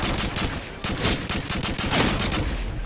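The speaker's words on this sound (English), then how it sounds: "It's fun to use this FAL though, I have to say." FAL rifle gunfire in the video game Modern Warfare 2, loud repeated close shots in rapid irregular bursts with rumbling echoes filling the whole stretch.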